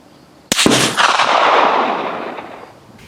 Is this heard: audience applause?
no